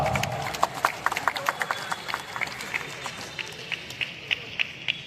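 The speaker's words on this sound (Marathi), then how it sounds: "टाळ्यांचा आवाज." An audience claps in an even, rhythmic beat at a bodybuilding competition awards ceremony. The claps are distinct and fairly close over a murmuring background.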